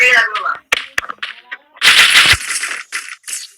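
Bursts of automatic gunfire and sharp single shots ring out in a shooting video game, loud and close, with rapid rattling volleys between pauses.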